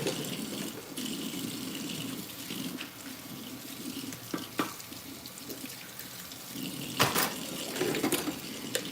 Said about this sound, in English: While I wash these, because these are just bowls